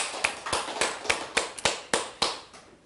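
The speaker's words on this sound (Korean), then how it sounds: "하나님께 영광의 박수 올려드립니다." A church congregation at a Korean Sunday worship service claps in a steady, evenly spaced rhythm, roughly nine sharp claps spaced about a third of a second apart, sounding fairly quiet and slightly distant with no talking.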